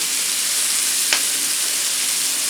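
Cajun shrimp fry in a pan with a steady, close hiss of sizzling oil that holds evenly throughout, broken once by a brief sharp crackle.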